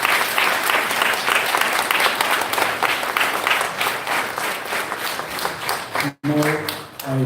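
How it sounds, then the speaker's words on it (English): An audience applauds after a devotional music concert at an advent day celebration. Full, steady clapping from a crowd gradually thins, then drops out briefly before a tonal voice or instrument takes over at the end. "So please give them all a big round of applause."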